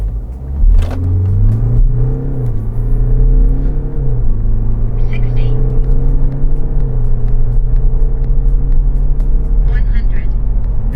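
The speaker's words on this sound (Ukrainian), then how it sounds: "Зараз зажимаємо тормоз, чуть-чуть розкручуємо його і пробуємо, що в нас вийде" A car launching from a standstill and accelerating hard to 100 km/h with the gearbox in sport mode gives a loud, steady engine rumble that rises through the gears, with a brief sharp transient near the start and no talk.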